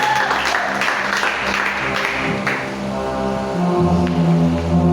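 Church congregation acclaiming the Lord with cheers and applause, a broad wash of clapping and voices blended with sustained organ or keyboard tones that swell toward the end.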